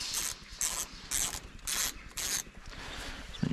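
Two 8mm bolts wound in by hand on a Honda BF2.3D outboard, heard as a run of close ratcheting bursts repeating in a steady rhythm with short pauses between them.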